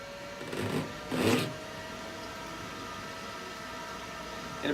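An evaporative cooler running on free pool water blows a steady, fairly quiet stream of air, a constant broadband hiss with a faint motor hum beneath, broken by a couple of brief louder swells.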